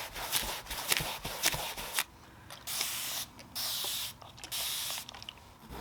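Spray bottle misting water onto the fabric of an upholstered chair being painted, several short hissing bursts in an irregular rhythm, close and fairly loud, mixed with rubbing and scrubbing of a hard bristle brush between sprays.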